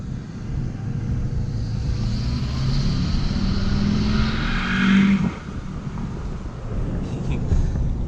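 An LBZ Duramax diesel pickup truck engine revs up and holds a loud, rumbling roar before dropping back to idle, with people talking over it.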